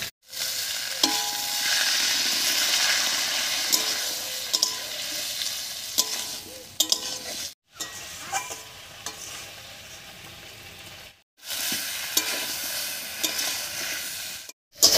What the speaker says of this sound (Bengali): এবার একটু মশলা বাটার জল দিয়ে ভালো করে কষিয়ে নেব।